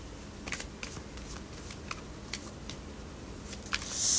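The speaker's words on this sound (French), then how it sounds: "Je tire une carte." Card being drawn from a deck during a live spiritual reading session, a series of soft quick papery flicks and snaps, close and fairly faint over light background hiss, with a louder rustle at the end.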